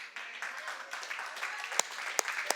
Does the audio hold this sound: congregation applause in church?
yes